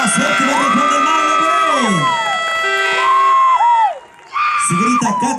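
Crowd at a national cueca dance competition in Chillán Viejo cheers and whoops loudly, with long sustained shouts and wavering yells overlapping and dipping briefly near the end before rising again.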